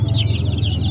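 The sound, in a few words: chickens clucking on a chicken farm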